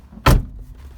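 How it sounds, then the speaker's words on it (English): A single solid thunk of a 2008 Jeep Wrangler Unlimited door shutting, short and close, followed by quiet interior stillness. "Now I'll go ahead and close the door."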